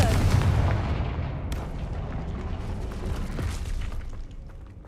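A Confringo fire-blast spell in Hogwarts Legacy bursts with a loud booming blast at the start, then a rumbling, crackling roar that slowly fades over several seconds.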